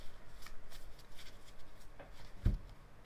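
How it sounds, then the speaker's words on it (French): A deck of cards being cut and shuffled by hand for a tarot-style reading, soft papery riffles and flicks in short bursts with a sharper snap near the end, quiet and close. "Et on va faire une première coupe."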